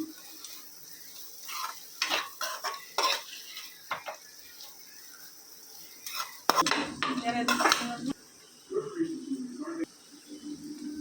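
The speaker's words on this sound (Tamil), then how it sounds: "உருளைக்கிழங்கு போட்டுக்கலாம். நல்லா கிண்டி விடணும். எல்லா பக்கமும் மசாலா சேரணும்." A metal spoon scrapes and clatters in a pan as potato fry with masala is stirred. There are irregular knocks and a soft sizzle, with a voice speaking in between.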